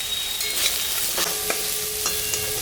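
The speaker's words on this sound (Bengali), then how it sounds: "আলু পেঁয়াজটা ভাজা হয়ে গেছে, এখন আমি স্বাদ মতন লবণ আর পরিমাণ মতন হলুদটা দিয়ে দিলাম।" Potatoes and onions frying in a pan with salt and turmeric added, a steady close sizzle broken by a few brief scraping stirs, with no talking.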